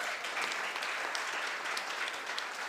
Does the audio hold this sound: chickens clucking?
no